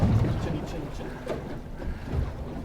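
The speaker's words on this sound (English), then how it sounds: "Wind's gotten up on us." Wind blowing over a small fishing boat on an upper harbour in a roughly 20-knot southeasterly, a steady close rumbling buffet against the microphone, with a low voice partly buried beneath it.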